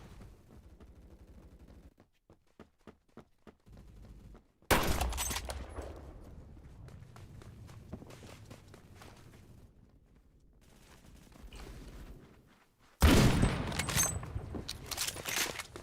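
Gunfire in the video game Deep Rock Galactic: first a few sparse clicks and pops, then a loud burst of rapid fire, a quieter stretch, and another loud sustained volley of shooting at the end.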